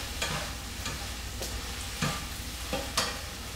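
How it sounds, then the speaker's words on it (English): Chopped vegetables for picadillo sizzle and sauté in a pan, with a spoon scraping and stirring in several sharp strokes over a continuous frying hiss. "So let's get these all nice and sauteed, so that way I can then put the meat in and they'll get the nice flavoring."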